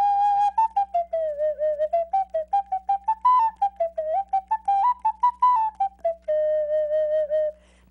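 A plastic flutophone with a fipple mouthpiece plays a simple melody of short tongued notes that are mostly staccato, ending on one sustained tone, clear and close with no talking.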